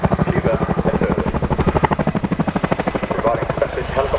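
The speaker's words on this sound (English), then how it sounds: "They primarily work with our UK support helicopters, including the Chinook" An RAF Chinook twin-rotor helicopter at an airshow demonstration gives a loud, close, steady rapid blade thudding with a heavy turbine roar, continuous throughout.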